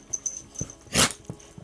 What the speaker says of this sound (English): Yes, Rory, you sneeze.